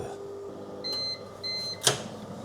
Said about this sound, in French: c'est parti pour 3 minutes au micro-ondes